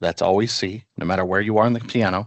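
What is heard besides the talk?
No everyday noises stand out.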